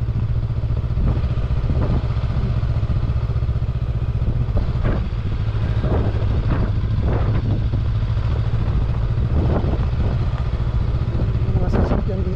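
A Rebel 500 motorcycle rolls slowly through a banana plantation, its engine a steady low rumble close by with occasional rattles and clatter over rough ground, and a voice talking intermittently above it.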